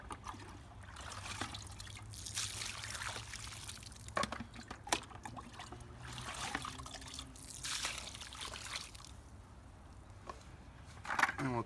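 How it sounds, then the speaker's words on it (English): A bucket of water is poured to soak a newly planted bare-root fruit tree in the ground, giving irregular trickling, splashing and dribbling bursts that rise and fade over several seconds, close by and without speech. "we're just going to water and soak the plant as much as we can"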